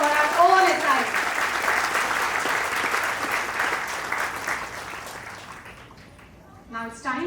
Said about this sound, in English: A round of applause once again for our own S.I.A.